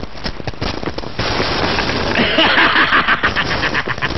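Gunfire rings out as bullets are tested in a scene from a Bollywood action film, with rapid cracking shots followed by a dense, sustained crackle of overlapping reports. The shots are loud and close, and no clear voice comes through.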